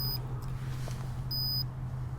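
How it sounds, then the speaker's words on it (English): A SKS Airchecker 2 digital pressure gauge gives two short high electronic beeps, one at the start and a longer one later, over a steady low hum of background noise. "it'll double beep when it's ready"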